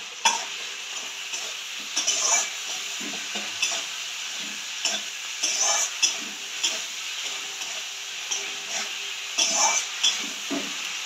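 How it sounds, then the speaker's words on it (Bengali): Spice paste with chopped tomato, ginger and a pinch of salt sautéed in oil in a pan for a Bengali fish curry, a steady soft sizzle broken by repeated scraping stirs at an irregular, unhurried rhythm, close by with no talking. "সুন্দর করে মশলাটা কষিয়ে নিতে হবে"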